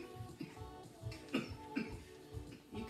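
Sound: coughing

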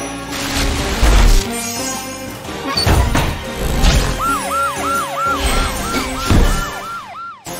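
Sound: police car siren, cartoon

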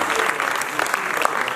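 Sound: audience applause for an artist at award ceremony

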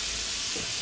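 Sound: Black Angus beef searing in oil

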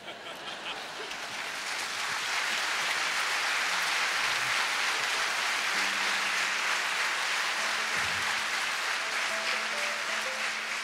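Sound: concert audience applause

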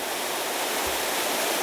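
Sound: small mountain stream waterfalls

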